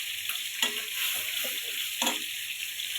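Onion and ginger paste sizzling in a hot pan for a fish and aubergine curry, a steady hiss with a couple of sharper stirring scrapes and crackles, close by.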